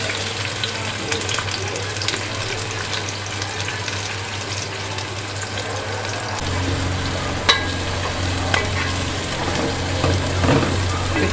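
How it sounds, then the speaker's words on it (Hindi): Onions fry in hot oil for chicken biryani, a steady soft sizzle that thickens partway through and carries on at moderate level with a few faint clinks, and no one speaks over it. "ये ऑयल गर्म हो जाएगा तो इसमें हम प्याज डालेंगे"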